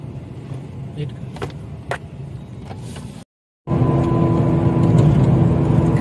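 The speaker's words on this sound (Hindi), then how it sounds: "धीरे धीरे एक एक गाड़ी आगे हो रही है" At a border checkpoint, cars creep slowly forward in a line, their engines rumbling steadily and fairly near, broken by a short dropout, and the hum grows louder and fuller afterward.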